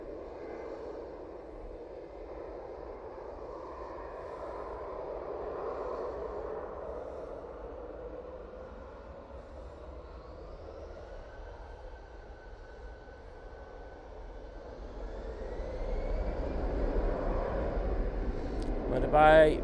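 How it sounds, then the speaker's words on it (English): An Air Canada airliner lands at Manchester Airport, heard as a distant, low steady jet roar that swells toward the end. People talk quietly over it. "smoky landing there from the Air Canada"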